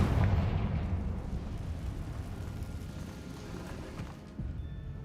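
A Confringo fire spell cast in Hogwarts Legacy lands as a heavy, rumbling blast that rolls and slowly fades over several seconds, with no voices over it.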